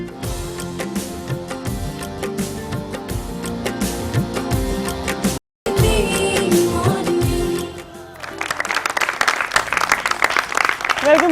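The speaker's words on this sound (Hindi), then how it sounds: "खुश कर दिया है तालियों ने आपकी" Studio audience applause on a Hindi-language morning talk show, a dense sustained clapping that fills the room, briefly cut off midway and then resuming, more crowded and hissy toward the end.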